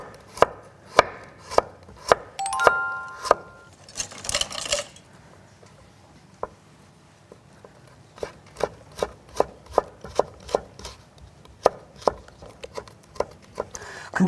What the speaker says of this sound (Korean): 그리고 여기에다가 당근도 같이 이제 채 썰어서